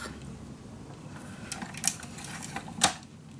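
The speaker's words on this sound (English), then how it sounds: "Now I also can use my cutter" A craft cutter slicing out a paper frame for scrapbooking, giving a few sharp snapping clicks over a steady low background hiss, close and moderately loud, no talking.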